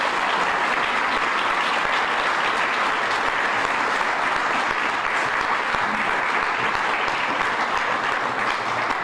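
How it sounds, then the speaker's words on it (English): Steady, full audience applause for a panel at a summit, dense clapping sustained at an even loud level for about nine seconds with no talking over it. "Let's give them a round of applause and thank them for being here today."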